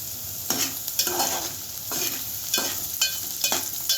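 Ivy gourd (tondli) pieces fry uncovered in a pan over a medium gas flame, a steady sizzle broken by repeated scraping stirs of a spoon at a roughly even rhythm, close and clear with no talking.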